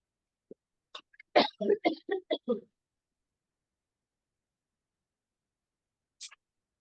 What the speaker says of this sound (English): When you start talking, then you have a coughing fit.